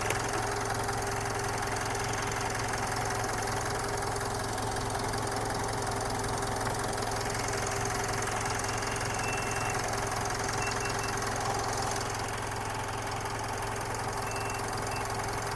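A Mitsubishi Dakar VGT car engine idles steadily just after starting, a constant low mechanical hum with a slight knocking texture, close and unbroken for the whole stretch.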